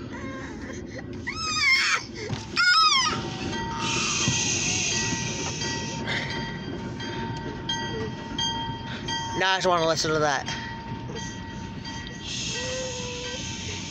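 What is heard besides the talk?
OC&T freight train passing with bell ringing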